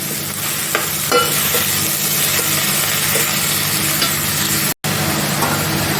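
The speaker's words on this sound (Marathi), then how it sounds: "आता घेतलेला टोमॅटो आहे मी तो टाकतो ते पण चांगलं आपलं चांगलं शिजेपर्यंत आपल्याला परतून घ्यायचे आहेत" Chopped tomato sautéing with onion in a hot pan, a loud continuous close sizzle with faint scraping stirs, briefly cut by a momentary dropout.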